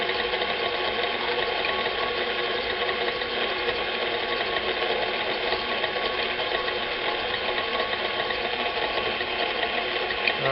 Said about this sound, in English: Now mix this on high